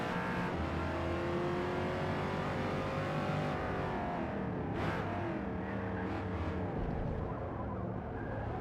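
A Cadillac Blackwing engine in Gran Turismo 7 revs and drones loudly and continuously, pitch rising and falling through gear changes with brief tire noise, close and unbroken throughout.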